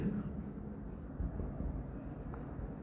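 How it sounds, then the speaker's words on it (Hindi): A pen writing on paper during an accountancy lesson, soft steady scratching strokes heard close but faint beneath low room noise. "तो यहाँ पे हम लिखेंगे"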